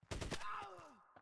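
A breaching charge detonates in the video game Door Kickers 2: a few sharp, loud blasts in quick succession, then a ringing tone that sweeps downward and fades, with a small thump at the end.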